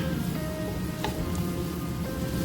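Capsicum stir-fried in a hot pan for chicken fried rice gives a steady, close sizzle like light rain, with a faint clink of the spoon partway through and no talk.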